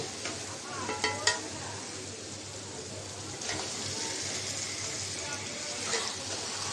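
Hilsa fish sautéing in mustard masala in a pan gives a steady, close sizzle with a few sharp stirring scrapes near the start, with no talking.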